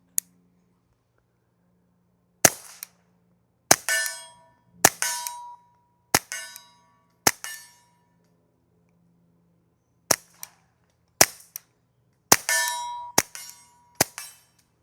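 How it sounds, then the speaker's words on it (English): A suppressed Mauser HSr .22LR rifle fires about eleven sharp, cracking shots at irregular intervals, each a short crisp snap with a faint metallic ring, some paired in quick succession, outdoors and close with quiet gaps between. "So let's go ahead and shoot some rounds to this gun suppressed now."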